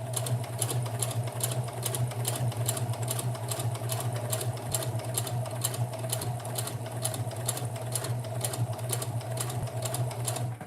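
A sewing machine stitches fabric in a steady, fast mechanical chatter with a constant motor hum, running close and continuously throughout.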